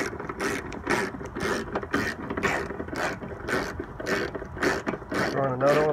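Ratchet clicking in repeated quick bursts while headlight bolts are tightened on a 2007 Mazda Miata MX-5, close and fairly steady across the whole stretch.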